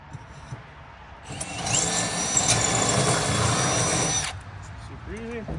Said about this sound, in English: we got one more hole to drill